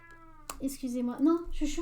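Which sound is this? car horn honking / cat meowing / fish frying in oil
cat meowing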